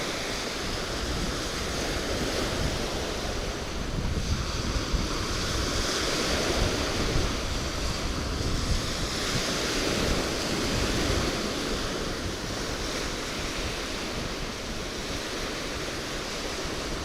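Waves of an incoming tide wash onto the Florida Gulf Coast shore in a continuous, even roar of surf, with wind buffeting the microphone and no voices.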